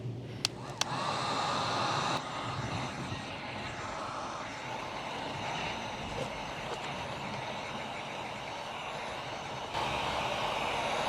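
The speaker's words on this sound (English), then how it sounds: "keep the heat gun moving over this thing so you don't melt your kayak" Heat gun blowing hot air over a plastic kayak keel guard, a steady loud whooshing hum running throughout, nearby and unbroken, with a couple of small clicks near the start and a slight rise in level toward the end.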